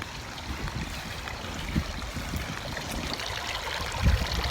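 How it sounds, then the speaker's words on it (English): A garden water fountain outside a house trickles and splashes softly, a steady close gurgling flow with occasional louder drips and no voices. "And there's the fountain."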